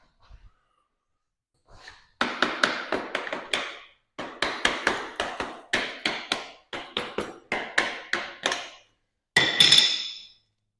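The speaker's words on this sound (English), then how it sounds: "We'll just tap it down." Rapid hand tapping on a part while fitting a Clickgear tour bag kit, in four close clusters of quick sharp knocks, then a brief louder final burst, near and with no talking.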